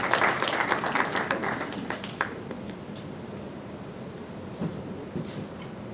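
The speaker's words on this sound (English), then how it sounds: "Please, I will give him a round of applause." An audience at a conference opening ceremony gives a short burst of clapping that is loudest at first, then thins into scattered claps and room murmur.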